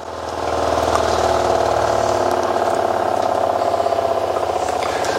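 Portable RV clothes washer shutting off, its motor rumble and rattling tub spin winding down steadily, close and continuous.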